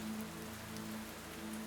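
Steady rain falls continuously at a low, even level, a soft hiss and patter with no voices.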